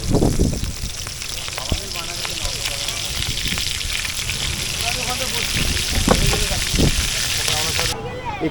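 Fish fries at a beach food stall in Puri with a dense, continuous sizzle and crackle, and indistinct voices from the surrounding crowd behind it.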